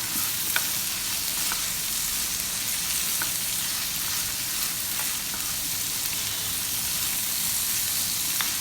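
A fried mixture with rock salt is stirred in a pan, giving a continuous close sizzle with a few faint scraping ticks and no voices.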